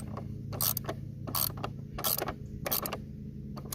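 A power driver runs starter screws into plastic on a Kohler 7000 Series engine of a Bad Boy ZT Elite zero-turn mower, giving four or five short bursts of whirring and ratcheting, close and clear, with no talking.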